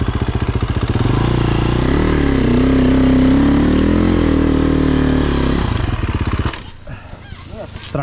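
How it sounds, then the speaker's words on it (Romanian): A tractor engine runs steadily and loudly at close range, a thick rumbling drone that holds for about six seconds before cutting back sharply, leaving quieter mixed noise and what may be voices. "Tractor."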